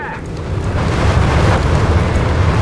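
Heavy bombs from an air support strike in Company of Heroes 3, a rumbling, roaring blast that swells and holds as a dense low boom, loud and continuous with no talk over it.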